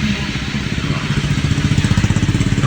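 A motorcycle engine chugs nearby with a rapid, regular pulsing beat that grows a little louder and steadier toward the end, with no talk over it.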